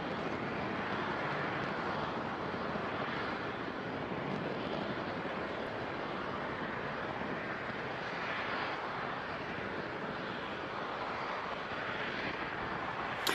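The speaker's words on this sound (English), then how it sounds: "all 9 Merlin engines continue to perform well" A SpaceX Falcon 9 ascends during a Cygnus NG-24 launch, its nine Merlin engines heard as a steady, distant, broad roar that rumbles on evenly without pauses.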